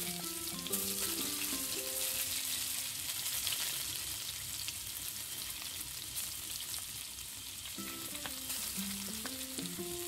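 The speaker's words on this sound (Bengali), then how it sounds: "আলুগুলো সামান্য নুন হলুদ দিয়ে ভেজে তুলে নেব।" Cubed potatoes fry in oil with salt and turmeric in a kadai, giving a steady, dense sizzle that carries through the whole stretch, with a soft melodic tone drifting underneath.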